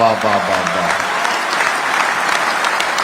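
A large audience at a Holi poetry gathering breaks into sustained, broad applause, loud and continuous throughout, with a speaking voice briefly audible at the very start.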